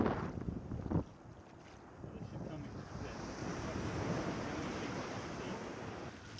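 Waves break along a beach while a boat rows toward shore, a steady roar of surf and wash mixed with strong wind buffeting the microphone, a sharper bump near the start.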